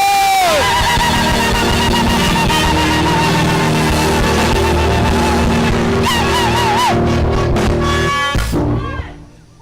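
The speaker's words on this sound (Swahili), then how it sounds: "wapi makofi ya Samirungu?" Large crowd at an outdoor religious crusade, loud sustained cheering, whoops and screams with clapping, building and then fading near the end as a voice cuts through.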